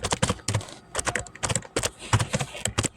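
Rapid typing on a computer keyboard while writing HTML code, a close, dense run of sharp clicky keystrokes in uneven bursts with short pauses, heard alone without talk.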